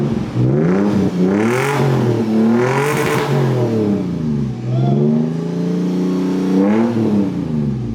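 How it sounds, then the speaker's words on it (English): A Toyota FJ Cruiser with a Borla catback exhaust revs repeatedly, its throaty engine note rising and falling in several swells, loud and close, with no talking. "which is a Borla catback exhaust. Listen to how it sounds."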